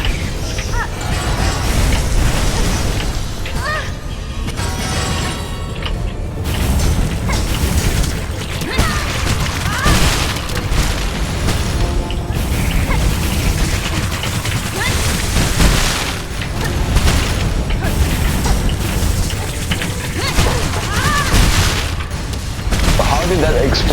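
Explosions in a video game boss fight against a three-headed enemy, dense continuous booms and crashing impacts layered under game noise, with a person talking throughout.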